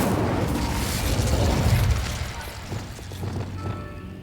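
Incendio fire spell cast in Hogwarts Legacy, a dense roaring whoosh of flame with booming low rumble that swells over the first two seconds, then thins into crackling bursts, fairly loud and near.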